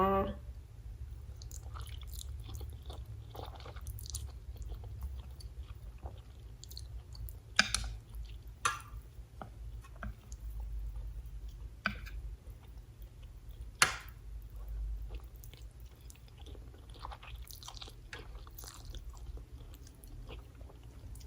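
Close, quiet chewing and biting of a favourite grilled food, with scattered wet clicks and a few sharper crunchy bites over a low steady background, no talk.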